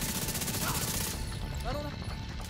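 Bursts of suppressive gunfire in The Division 2 rattle quickly in the first half, then fade under shouted game voice lines and scattered action sounds.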